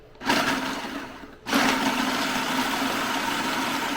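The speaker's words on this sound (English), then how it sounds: "so I just always throw them in the food processor" A food processor pulverising cookies into crumbs: a steady loud motor whir that starts abruptly, cuts out briefly, then resumes and runs on continuously, close by with no talking.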